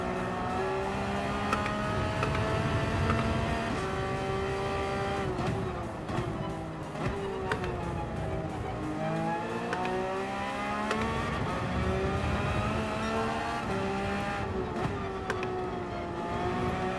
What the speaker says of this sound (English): I forgot how much his car likes to be revved out too.